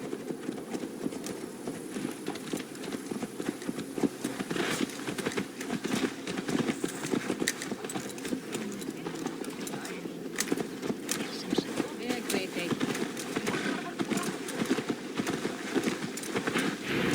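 Horse hooves clip-clop in a steady walking rhythm on a road in Assassin's Creed Valhalla, moderately close and continuous under game ambience and voices.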